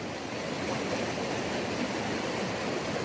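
Cold water flowing with a waterfall pouring down from above, a continuous broadband rush that stays steady and fairly full, with no voices.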